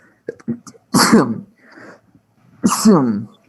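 Two loud sneezes burst out close by, separated by a short pause, with faint rustling between them.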